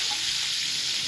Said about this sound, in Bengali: মাছ ভাজা মোটামুটি হয়ে যাচ্ছে।